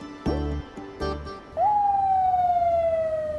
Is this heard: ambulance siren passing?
yes